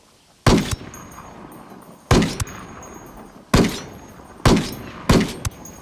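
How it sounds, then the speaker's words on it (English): Gunfire in the tactical shooter Ghost Recon: Wildlands, five loud single shots spaced a second or two apart, each with a sharp crack and a short echoing tail over quiet ambient background. "That gun sounds amazing."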